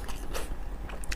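Wet, crunchy bites and chewing on spicy lamb intestine during a family mukbang meal, several close sharp crunches and squelches in quick succession with no talking.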